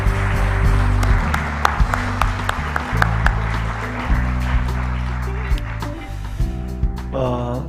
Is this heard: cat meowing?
no